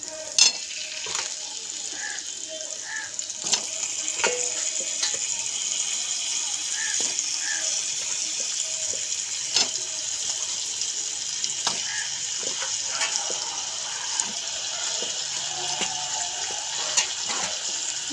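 Meat in a pot over the heat, frying with a steady sizzle while a spoon stirs it and scrapes and taps against the pot at irregular moments, close and continuous for the whole stretch.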